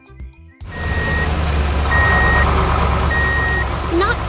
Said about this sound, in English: It is a concrete mixer truck on a mission.